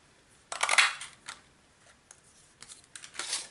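A scallop punch cuts shapes from designer series paper: several crisp papery snips and crunches arrive in short bursts with quiet gaps between, close and fairly soft, with no voice.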